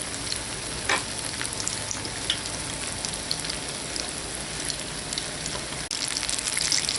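Apple fritters fry in a pan of oil, a constant close crackling sizzle like light rain, with a few faint clicks and a brief dip before the frying swells again, no talking.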